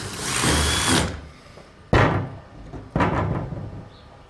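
A drill bores out a hole in a chrome moly part in a long whirring burst, followed by two shorter sharp bursts with quiet pauses between.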